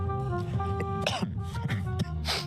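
A man on a played stream coughs and clears his throat in several short bursts. Background music and other noise run underneath the coughs.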